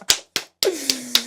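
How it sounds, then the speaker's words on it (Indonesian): Five sharp hand claps ring out close by at the end of an interview chat with a costume maker. They come in an uneven rhythm, with a brief tonal voice sound behind the last few. "Tepuk tangan dulu bolong."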